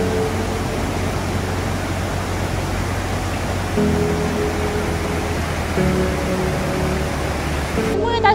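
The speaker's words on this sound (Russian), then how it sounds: "Вот теперь это водопад. Настоящий." A steady, broad roar of the Alibek waterfall in Dombay fills the scene, constant rushing water heard up close.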